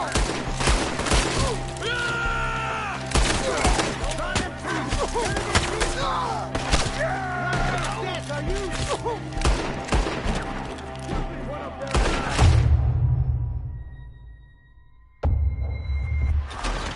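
Rapid gunfire at enemies up in a tree in Red Dead Redemption 2, dense crackling shots under excited shouting voices, then a few heavy thumps as the firing fades near the end.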